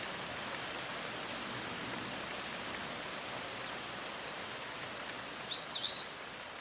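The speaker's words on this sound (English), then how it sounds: "The winged travelers, birds," Steady rain hisses throughout in the Alaskan wild, and near the end a single bird gives two quick high calls that rise above the downpour.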